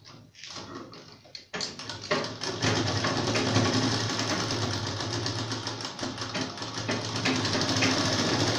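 A sewing machine stitches a ladies' pajama pant, its needle running in a fast, steady mechanical whir close by after a brief start, with no talking.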